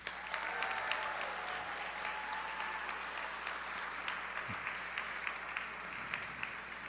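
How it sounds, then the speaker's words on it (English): An audience at a 2022 high school graduation ceremony claps for a group of graduates, a steady, fairly quiet spread of applause heard from a distance in a large hall, holding evenly throughout. "please give a nice round of applause for this group of graduates."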